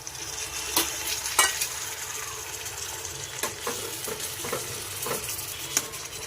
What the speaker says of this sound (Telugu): ఇప్పుడు కట్ చేసి పెట్టుకున్న చుక్క కూర వేసుకోవాలి.